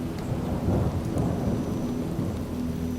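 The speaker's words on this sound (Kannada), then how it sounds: "ರಾತ್ರಿ 9:30 ಮಳೆ, ಗುಡುಗು." Steady rain pours and rushes at night while deep thunder rolls and rumbles through it, filling the whole stretch at an even, fairly loud level.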